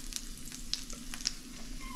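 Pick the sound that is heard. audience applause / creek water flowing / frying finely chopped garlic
frying finely chopped garlic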